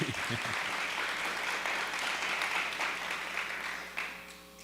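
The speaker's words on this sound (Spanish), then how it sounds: "Otro aplauso, muy bien." Applause from an audience at a university forum on sustainable finance, dense and even clapping that tapers off near the end as a low hum remains.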